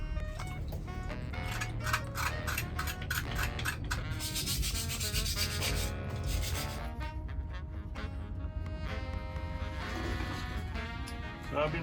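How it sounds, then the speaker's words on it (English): Steady scraping and rubbing of sandpaper on a car steering wheel by hand, continuous and fairly close, with some faint tonal sounds in the background. "So I've been sanding and sanding and sanding this one and this one."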